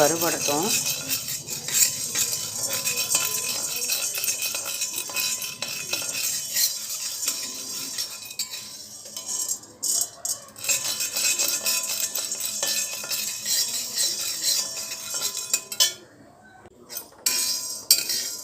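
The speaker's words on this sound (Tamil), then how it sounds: "அடுத்தது நம்ம கடலைப்பருப்பு வறுத்துடலாம்" Chana dal is dry-roasted in a pan while making curry leaf idli podi, with repeated scraping and clinking of a metal spatula against the pan and a faint sizzle, steady then easing off near the end.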